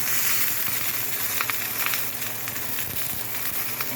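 Meat sears in a hot pan during a sous vide cook, giving a steady, dense sizzle that stays close and loud throughout without pause, with a few brief crackles and no talking.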